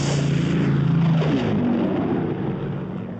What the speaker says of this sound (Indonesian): tiba-tiba ada pesawat Jepang yang berpatroli ke pulau tersebut